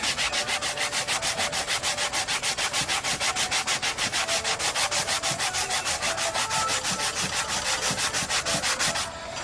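Sandpaper worked by hand over a wooden bowl being restored: fast, steady back-and-forth rubbing strokes in an even rhythm, close and loud, with no talking.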